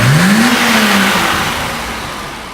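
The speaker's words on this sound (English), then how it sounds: "So with Heinrich's straight 6 sounding awesome" A classic Mercedes-Benz straight-six engine revs once close by, pitch rising quickly and then easing off as the sound fades away, with no one talking.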